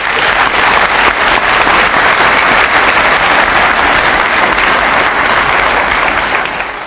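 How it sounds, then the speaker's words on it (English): Thunderous applause from a large audience at an evening award ceremony, dense and steady for about seven seconds before easing slightly at the end, with no voices over it. "giving them collectively a thunderous applause that everyone around the world can hear"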